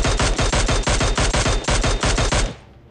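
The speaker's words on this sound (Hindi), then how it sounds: "वो बंदा पहली फायर देता है मेरे को" Automatic gunfire in PUBG Mobile: about fourteen rapid, evenly spaced shots ring out loud and close, then stop abruptly, leaving a short fading tail.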